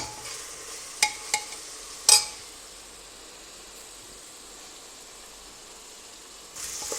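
Masala with green gram pieces stirred and frying in a pan for a vegan protein biryani, a steady soft sizzle under a few sharp clinks of the spoon against the pan, no talking.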